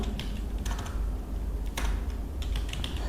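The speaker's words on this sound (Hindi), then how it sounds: "अब मैंने यहाँ पे टाइप कर दिया अमर उजाला।" Typing on a computer keyboard in MS Word, a steady run of close key clicks with a few sharper taps and no voices.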